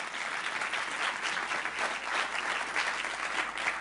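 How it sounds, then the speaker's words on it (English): Sustained audience applause for two speakers at a university public lecture, a dense steady wash of many hands clapping throughout, moderately loud and unbroken. "A round of applause for our two speakers."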